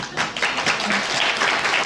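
An audience applauds at a presentation, a short burst of scattered, moderately loud clapping.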